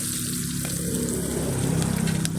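Garlic, onion and ginger frying in a pan at a street-side cooking spot, a steady close sizzle and crackle throughout with no talking.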